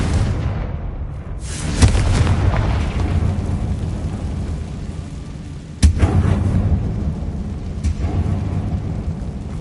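Confringo blasting spell exploding inside a mine in Hogwarts Legacy: deep rumbling blasts with sharp booming impacts, loud and close, echoing through the underground space.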